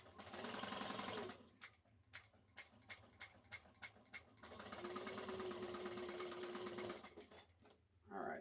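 A sewing machine stitches around a U-shaped seam on a shoulder bag, running in bursts of rapid even clatter, then a string of short separate stitch pulses, then a longer steady run before stopping.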